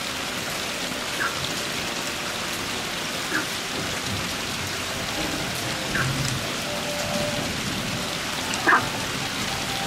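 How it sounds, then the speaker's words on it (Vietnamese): Dense, steady heavy rainfall patters continuously on surfaces at a military helicopter display, with a few louder drips standing out against the constant wash. "Mặc dù trời vẫn đang mưa lớn"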